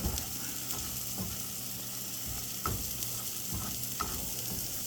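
Food sizzles steadily in a hot frying pan, with occasional light scrapes and clicks of stirring close by.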